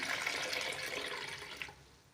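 Bangles being washed in water, a busy splashing and trickling wash that runs for a couple of seconds and then drops away to near quiet at the end.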